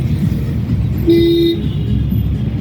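One short, bright car horn honk sounds over a steady rumble of engine and road traffic, driving at night on Maa Flyover in Kolkata.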